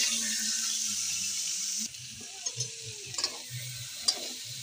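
Vegetables fry in hot mustard oil with a little leftover ghee, a steady sizzle that dips as stirring begins, followed by scattered scraping and clinking of the spoon against the pan.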